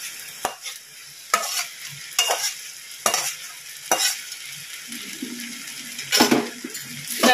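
Rice and gravy for hilsa pulao sizzle in a pan while a metal spoon stirs, sharp scraping clanks every second or so over a steady frying hiss, close and fairly loud, with no talking.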